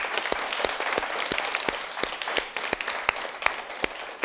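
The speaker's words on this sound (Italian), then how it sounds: "facciamo un grande applauso a Sauro Pezzi" Audience applause fills the hall after an introduction at an event celebrating a football figure, a dense steady clapping with sharp individual claps standing out, moderately loud throughout.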